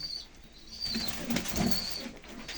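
Pigeons in a coop give soft, low cooing calls with bursts of wing flapping, fairly close and moderately loud against a steady background hiss.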